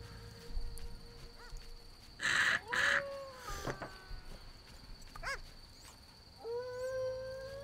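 A dog howls in the medieval fantasy game The Witcher, with a few drawn-out wavering cries and short yelps rising over a quiet outdoor village ambience, moderately close and with no talk.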